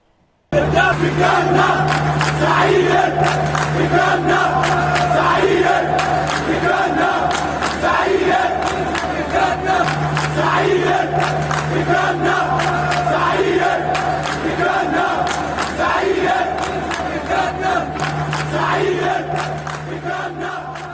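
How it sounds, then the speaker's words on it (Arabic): A packed football stadium crowd chants rhythmically and cheers for about twenty seconds, a loud, dense and continuous roar with repeating pulses and drum-like beats. "تسمعوا صوت الجمهور"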